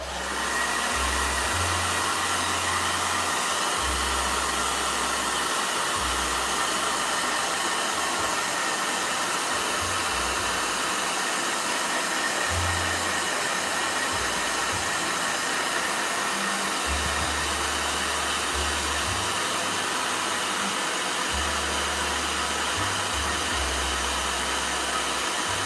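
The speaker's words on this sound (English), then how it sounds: "Okay, blow dryer" A blow dryer runs continuously for drying gouache paint, a close, steady airy hiss with an intermittent low hum pulsing underneath, and no voices.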